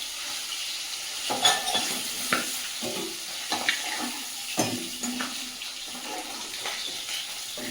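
Magur catfish pieces fry in hot oil in a home kitchen, giving a soft steady sizzle broken by repeated scraping stirs and turning of the fish, fairly quiet with no talking.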